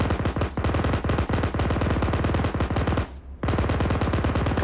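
Sustained automatic fire from a vehicle-mounted machine gun aimed at a BTR's tires in ArmA 3, heavy rapid bursts with a brief pause near the end before firing resumes, loud and close.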